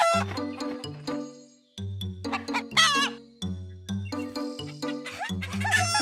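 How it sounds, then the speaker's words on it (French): Cartoon chickens cluck repeatedly in a lively farmyard, overlapping calls close by with a brief pause partway through. "Dans la basse-cour, Caillou a vu des poulets."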